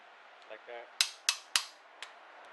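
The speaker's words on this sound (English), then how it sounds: "Alright, get a small little hammer" Sharp metallic taps from a small hammer on a part during a 700R4 transmission rebuild: three loud, evenly spaced strikes followed by a softer fourth, with faint handling noises before them.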